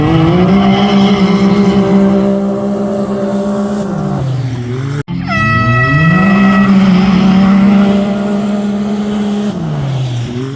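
Side-by-side UTVs, including a yellow Can-Am X3 Turbo R, race at the Russell County Fair. Loud, close engines hold a steady drone, rise and fall as they shift, and a sharp whine sweeps upward midway.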